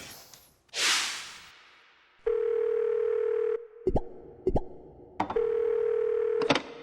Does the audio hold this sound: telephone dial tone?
yes